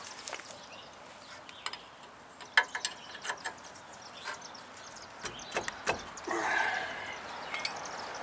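Ratchet wrench working on the brake bracket assembly of a 2004 Chevy 2500 Crew Cab truck, giving scattered clicking ratchet bursts and metallic ticks at close range, with a brief buzzing stretch near the end and no talking.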